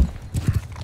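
Horse archers charging on horseback in Mount&Blade Bannerlord II, heard as a quick run of loud, close clip-clop hoofbeats in uneven rhythm, alone without talk.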